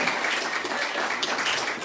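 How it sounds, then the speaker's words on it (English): A live cabaret audience applauds a conga line, with dense, steady clapping filling the room at an even, fairly loud level throughout. "Can I get a round of applause for the sexiest conga line you have ever seen?"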